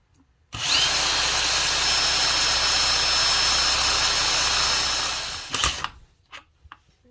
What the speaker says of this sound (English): let's kick it up a gear on this drill.